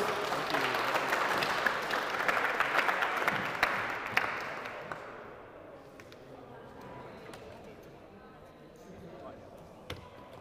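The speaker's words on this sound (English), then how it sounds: "give them a round of applause" Spectators at a university engineering design competition give a round of applause that is full and dense at first, then trails off into scattered claps and room noise.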